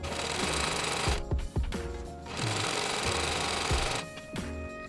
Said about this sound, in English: Now I'm going to take 2 of the pairs and we'll chain stitch those